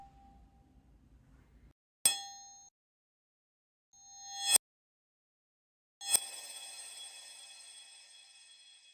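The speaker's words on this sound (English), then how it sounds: "This was done by reversing the sound of a wine glass being hit by a butter knife." A wine glass struck with a butter knife, played in reverse as a video game secret sound: bright glassy tones swell up and cut off abruptly twice, then a forward ringing strike trails away at the end, with no voices.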